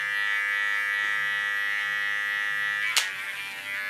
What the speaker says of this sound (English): For the contour, I put my clipper in a common position, blades on 3 millimeters.